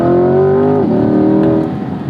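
A 2021 Chevrolet Corvette C8 Z51 engine revs loudly while driving on a gravel road, its pitch holding and then dropping as it shifts, then pulling again steadily.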